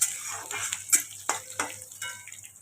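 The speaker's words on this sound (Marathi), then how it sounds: "हे एकदा असं सगळं मिक्स करून घ्यायचं" Chillies and curry leaves being stirred into a cabbage sabzi in a pan, with a series of distinct scraping and clinking strokes of a spoon against the vessel over a faint background sizzle, moderately close.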